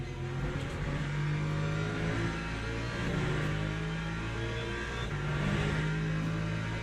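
A Le Mans hypercar engine revs steadily in Le Mans Ultimate, a continuous loud drone with shifting pitch, close and alone with no talk.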